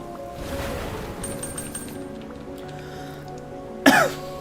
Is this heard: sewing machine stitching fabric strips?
no